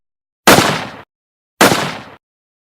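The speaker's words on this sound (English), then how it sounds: "28 other guardsmen also fired with M1 Garand rifles." Two sharp, loud gunshots from a Colt 1911 pistol and M1 Garand rifles ring out about a second apart, each with a brief decaying tail and silence between them, with no voices.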